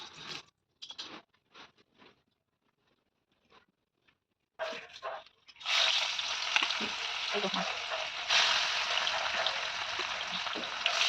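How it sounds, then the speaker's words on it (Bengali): Fish sizzles and spatters loudly in hot oil in a village kitchen pan, a steady frying hiss that takes over after a stretch of scattered clinks and short noises. "তো মাছটাকে এখন ভাজতে দেবো"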